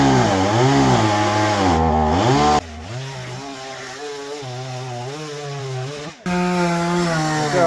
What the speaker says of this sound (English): Gonna cut this thing up with the chainsaw so we can throw it in the wood burner